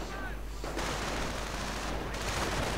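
Automatic weapons fire clatters in bursts during a WWII strategy video game battle, with Volksgrenadiers engaging a rifleman team amid steady, dense crackling gunfire at moderate loudness.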